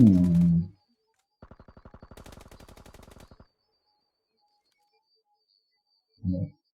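Rapid automatic gunfire in the shooter game PUBG Lite: a fast burst of sharp, evenly spaced shots lasting about two seconds, with short bursts of other game sound before and after and quiet gaps between.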